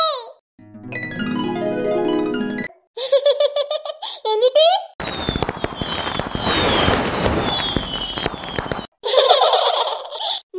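A dense, crackling burst of fireworks pops and rumbles for several seconds, framed by bright electronic tones and a child's chatter.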